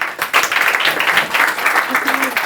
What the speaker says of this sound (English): Please give a round of applause for Audrey and enjoy tonight.